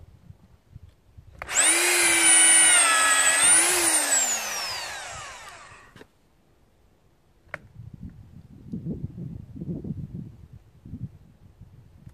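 A power drill bores into timber while building a wood-framed cabin with wattle-and-daub walls, its loud, close whine holding steady for about four seconds, then rising and falling before cutting out. Faint knocks and handling noises follow.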